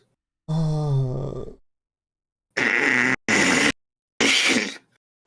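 A loud fart sounds from a live Dungeons & Dragons 5th Edition game session, a drawn-out groaning blast followed by three shorter sharp bursts, all clear and close with silence between.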